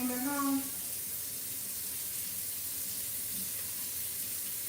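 Water runs from a tap in a steady, faint, hissing stream that continues without a break, with a brief voice at the very start.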